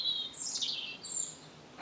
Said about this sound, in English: the robins having a sing